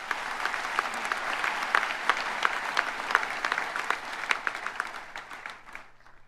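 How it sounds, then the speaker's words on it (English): A college convocation crowd gives a warm round of applause, many hands clapping at moderate volume before tapering off toward the end. "Let's give an applause to all of you for what you've achieved."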